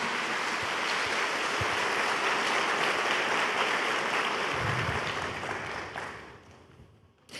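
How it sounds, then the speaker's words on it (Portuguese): A church congregation at a Lent service gives loud, sustained applause that fills the room evenly before fading out near the end. "Pode aplaudir essa mulher."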